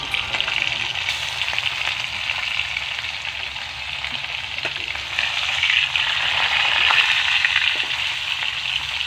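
Fish sizzles and spits in hot oil in a heated wok, a steady, fairly loud crackling fry that holds for the whole stretch with small bursts of popping and no talk.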